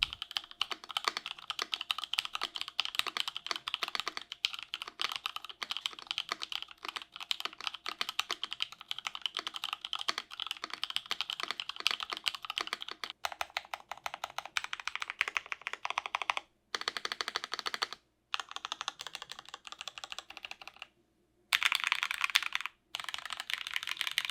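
Rapid, continuous clacking of typing on a Space Stellar65 hotswap mechanical keyboard with deep, thocky keys, close and crisp, with a few brief pauses near the end.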